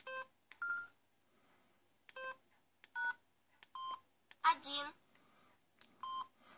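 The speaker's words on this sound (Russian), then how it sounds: "Звук клавиш, как я вам уже показал, можно выбрать любой." A series of short electronic keypad beeps from a Samsung X210 flip phone sound one by one with gaps between, alongside a brief burst of a voice.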